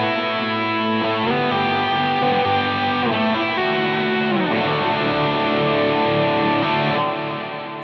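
An overdriven electric guitar plays sustained, distorted chords that shift several times, loud and continuous before fading at the very end.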